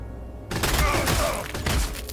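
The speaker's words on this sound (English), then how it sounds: "Last cannon's getting shot up by pistols." Pistols firing at a cannon in the Warhammer 40k Sanctus Reach strategy game, a short loud burst of rapid overlapping shots and impacts lasting under two seconds.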